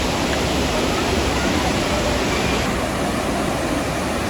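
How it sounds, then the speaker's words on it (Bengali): Jonha Falls near Ranchi, a loud, dense, unbroken rush of falling water heard close up, steady throughout. "ওই যে দিকে একটা লাস্ট দেখা যাচ্ছে যেখানে ঝর্ণার জলটা বইছে"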